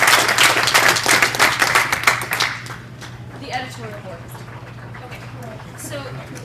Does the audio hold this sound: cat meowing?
no